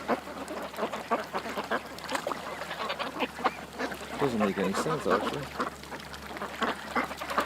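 Ducks quack in bursts at an outdoor spot near water, mixed under someone talking nearby, with steady background noise throughout.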